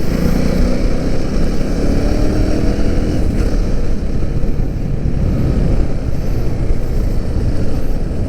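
A 2025 KTM Duke 390 third-generation motorcycle on the move, its engine drone blended with heavy wind rush into one steady, loud, unbroken roar lasting throughout, with no voices.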